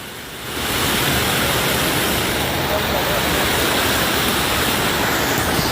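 Released floodwater rushes down the Bhogavo river in a loud, steady broadband roar that swells in within the first second and holds constant, with no talk over it.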